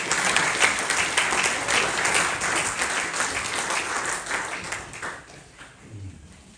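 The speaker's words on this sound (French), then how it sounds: "que je vous propose d'applaudir." Conference hall audience at an association's general assembly applauds a speaker being introduced, a full, even wave of clapping that gradually tapers and fades toward the end.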